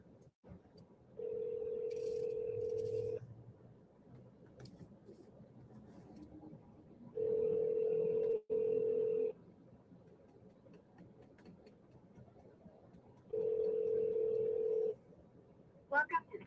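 A phone call rings repeatedly before reaching voicemail, three long ringback tones spaced several seconds apart over a quiet background, with faint speech between them.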